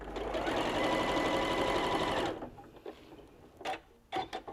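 A sewing machine runs steadily for about two seconds, whirring fast as it stitches a quarter-inch quilt seam on a gift box quilt block, then stops, leaving a few soft handling clicks.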